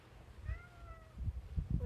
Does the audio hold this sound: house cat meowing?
yes